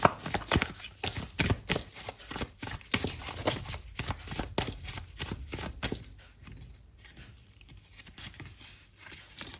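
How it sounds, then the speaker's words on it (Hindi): Tarot cards being shuffled in quick, steady riffling pats, loud and close, easing off into softer handling as cards are drawn. "मैं 3 कार्ड यहाँ पे निकाल के रखूँगी"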